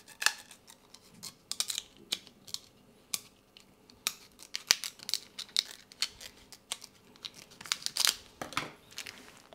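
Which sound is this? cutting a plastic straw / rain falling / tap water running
cutting a plastic straw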